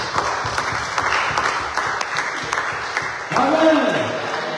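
A church congregation at a Sunday service applauds and cheers the Lord, with steady massed clapping and voices; a brief tonal whoop rises near the end.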